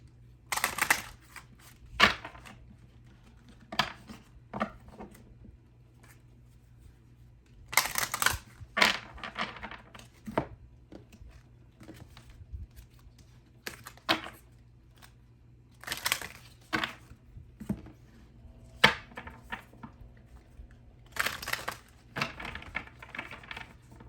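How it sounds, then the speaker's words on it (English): A tarot card deck is shuffled in sections, giving bursts of crisp riffling and card slaps separated by quiet pauses, close and fairly soft. "I'm going to try to shuffle a little bit differently this time. I'm just going to shuffle in sections"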